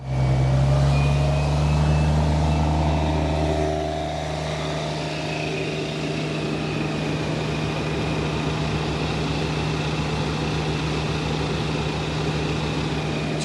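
A VMENG engine at full throttle gives a steady loud droning roar with a strong low hum, a slight shift in tone early on, then a constant even run with no voices.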